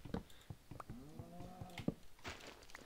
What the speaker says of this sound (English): there's a whole lot more cows here, though